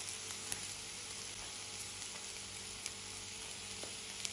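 Onion and garlic frying in a pan on a gas stove, a steady close sizzle with scattered small pops and crackles throughout.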